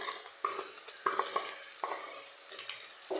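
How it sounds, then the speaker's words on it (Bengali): Eggs fry in a pan with onion, chili and cumin while being stirred, giving soft sizzling under quiet scraping strokes of a spatula that come in short bursts about once a second. "ডিমগুলো দিয়ে আমি কিছু সময় নেড়ে চেড়ে ভেজে নেব।"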